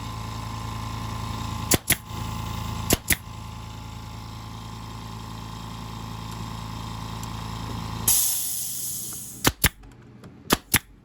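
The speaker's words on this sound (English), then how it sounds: "A very loud compressor." A very loud air compressor runs steadily in a workshop where scrap-wood wall art is being built, its broadband roar constant for about eight seconds, broken by a few sharp knocks before it cuts out into quieter bangs.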